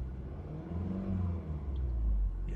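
A 2021 Volkswagen Golf GTI engine revs nearby with a deep, throaty rumble that swells, dips briefly, then climbs again in a couple of short blips.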